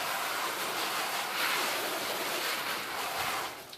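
Steady rushing spray from a garden hose on shower mode soaking cardboard in a commercial worm composter setup, loud and continuous, swelling slightly midway before easing off at the end.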